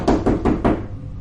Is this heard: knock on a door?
yes